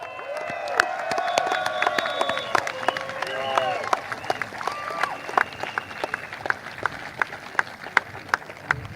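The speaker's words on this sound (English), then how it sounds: "Can we have one round of applause more for Leong Mun Wai?" A crowd at an outdoor political rally claps and cheers after a speaker, mixed with a voice over a loudspeaker. The clapping thins into scattered, separate claps toward the end.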